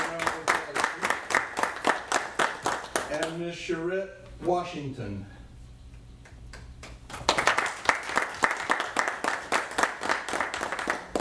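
A round of applause at a school district board of trustees meeting, rapid clapping from a small group that fades while someone speaks, then a second burst of clapping rises and continues to the end.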